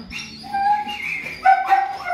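Dogs barking outdoors at a cat, a couple of sharp barks and whining yips at close range with no talking.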